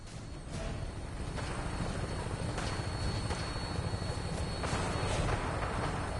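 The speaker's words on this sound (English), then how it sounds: "Tinker's gonna keep the vertibird spooled for an immediate takeoff." A vertibird aircraft in Fallout 4 idles with its engine spooled for takeoff, giving a steady, close rotor and engine drone that holds for the whole stretch, with a few brief higher swells along the way.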